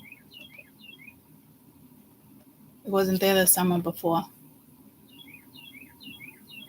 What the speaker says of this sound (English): All the birdies are tweeting.